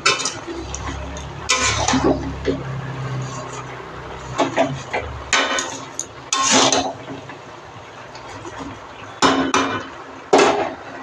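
Bottle gourd and spinach with fish heads stirred in a pan, with repeated clattering scrapes and knocks of a utensil against the pan coming in bursts, close and fairly loud, with faint background sound between strokes.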